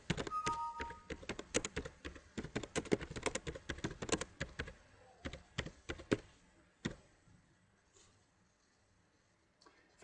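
Quick, irregular key clacks as a blog comment is typed on a computer keyboard, close and fairly quiet, thinning out to a few scattered taps before near silence.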